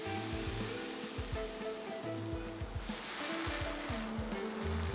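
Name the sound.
Italian sausages sizzling while browning on grill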